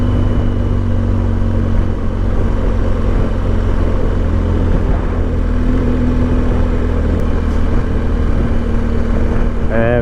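A BMW GS Adventure motorcycle engine drones steadily while riding on a Wicklow mountain road in Ireland, a continuous low rumble mixed with wind noise, loud and unbroken throughout.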